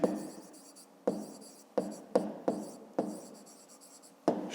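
Pen strokes scratch across paper in several separate bursts, each starting sharply and trailing off, close and fairly quiet, with a pause between words being written for a school maths exercise.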